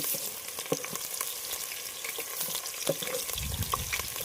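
Hot oil with chillies crackles and sizzles in a pan at a rainy forest campsite, a soft uneven spattering with small pops and a low rumble near the end, no speech.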